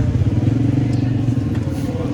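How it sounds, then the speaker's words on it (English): Motorbike taxi on a busy street in Pindi, Pakistan, its engine chugging steadily and close with a dense low putter under faint street noise. "I want to have a go on one of these motorbike taxis."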